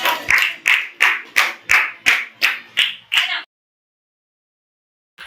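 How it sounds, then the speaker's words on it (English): Students in a grade 8 biology classroom clap in unison, about nine sharp, evenly spaced claps at a steady rhythm, then silence, with one more clap starting at the very end. "You clap to all."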